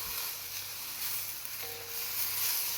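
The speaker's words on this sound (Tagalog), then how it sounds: "continue mixing until the vegetable is" Vegetables stir-frying in a pan for a chicken-and-vegetable spaghetti noodle dish, giving a steady, soft sizzle and hiss that runs unbroken for the whole stretch, with no voices.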